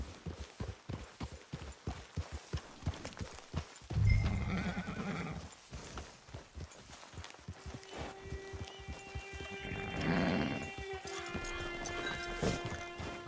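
A horse in Red Dead Online clip-clops along at a steady walking rhythm, its hooves sounding close and clear, and whinnies loudly twice between the hoofbeats.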